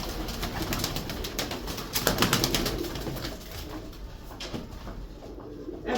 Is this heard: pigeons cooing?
yes